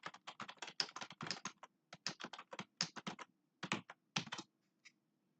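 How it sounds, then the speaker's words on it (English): Typing on a computer keyboard: close, crisp clicking keystrokes in quick irregular bursts separated by brief pauses, quiet and alone with no talk. "So we'll just type in all capitals."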